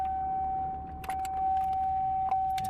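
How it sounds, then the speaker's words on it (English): Car warning chime dinging inside the cabin, a loud steady high tone sounding continuously, with a few clicks and rustles from someone moving around. "This has the loudest, most annoying dinger."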